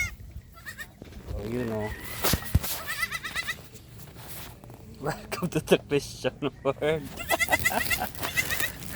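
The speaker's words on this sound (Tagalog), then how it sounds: "Kambing." Goat bleating repeatedly in wavering calls at close range, mixed with frequent talking and other farmyard noises.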